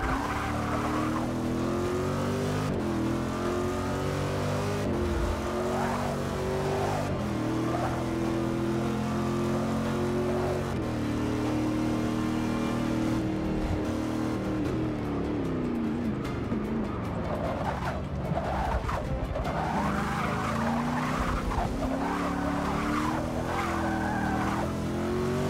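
A racing car in Forza Motorsport 6 drives hard through tight corners, its engine note rising and falling continuously, with repeated braking and tire squeal at each bend, loud and close throughout without speech.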